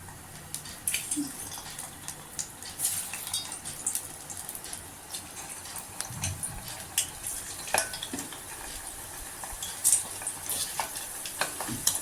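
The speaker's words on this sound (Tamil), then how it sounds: "இது நல்லா பொறிஞ்சு கலர் மாறி வரும் அப்போ நம்ம எடுத்துக்கலாம்" Ivy gourd pakoda deep-fry in hot oil with a soft, continuous bubbling sizzle, broken by scattered sharp crackles and pops, fairly quiet and close, with no voices.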